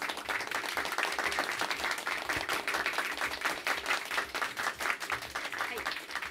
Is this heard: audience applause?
yes